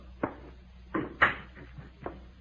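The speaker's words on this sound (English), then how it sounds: "Close the door." In a radio drama, a door is handled in a quiet room, with a few soft knocks and thumps and one sharper clunk as it shuts, and no voices.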